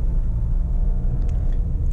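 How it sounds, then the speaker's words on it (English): A bi-turbo car engine rumbles steadily at close range while accelerating, a low, continuous drone that holds without pause for the whole moment. "now the car accelerates."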